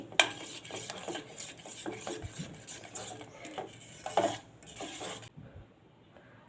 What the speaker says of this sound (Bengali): দিয়ে দিচ্ছি গন্ধরাজ লেবুর খোসাটা আর দিয়ে দিচ্ছি পাতাটা ভালো করে মিশিয়ে নিচ্ছি